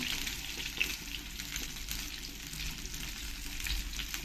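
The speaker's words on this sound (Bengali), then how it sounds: "মিডিয়াম ফ্লেমে কিছুক্ষণ এরকম করে তেলের পরে ফ্রাই করে নেব" Koi fish frying in oil over a medium flame, a steady broadband sizzle with faint clinks of handling, continuous and fairly close with no talking.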